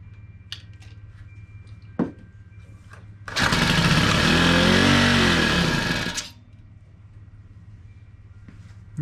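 A Honda FG110 tiller engine with a bad carburetor roars up into a loud, sustained rev for about three seconds, then cuts out, with a few faint clicks and knocks before and after.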